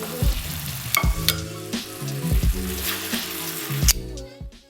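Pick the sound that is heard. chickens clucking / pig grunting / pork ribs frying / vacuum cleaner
pork ribs frying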